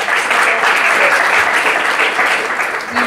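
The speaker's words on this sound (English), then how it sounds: "Another round of applause for our" A panel audience at a women-in-energy careers event applauds, a loud, close, continuous roar of many hands clapping that holds steady for the whole stretch.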